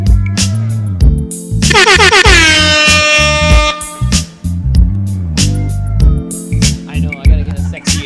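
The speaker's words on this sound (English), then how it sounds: "we gotta make the air horn sultry" Loud air horn blasts rising in pitch over a thumping musical beat, announcing a guest entrance on a live podcast recording, with brief vocal sounds in between.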